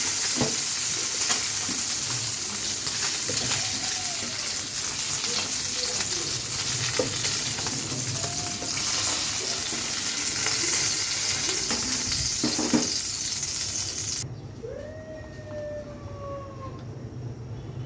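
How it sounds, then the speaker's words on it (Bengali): Fish frying in a large 26-inch frying pan, a loud steady sizzle and crackle running throughout, quieting noticeably near the end. "মাছগুলো অলরেডি ভাজা হয়ে গেছে তুলে ফেলতে হবে"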